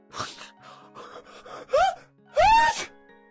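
A voice actor voices a character's sneezes during a phone call in the Mystic Messenger game: a few breathy, nasal sounds build to two sharp, loud vocal bursts with a rising-then-falling pitch, close to the mic.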